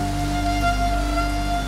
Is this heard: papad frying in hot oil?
no